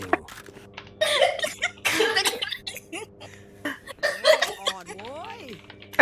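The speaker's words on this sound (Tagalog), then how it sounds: "inuubo na kakatawa" Someone coughs repeatedly from laughing while playing a game late at night, bursts of harsh coughs and laughter with a rising squeaky vocal sound near the end, close and loud.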